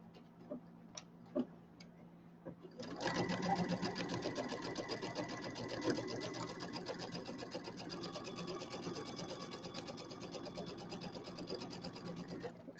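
Close sewing machine stitching fabric for a pillow: after a few seconds of faint clicks and handling, the motor kicks in and runs steadily with a rapid, even mechanical ticking of the needle for about ten seconds.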